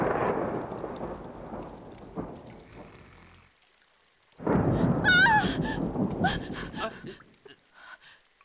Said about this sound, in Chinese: 我怕打雷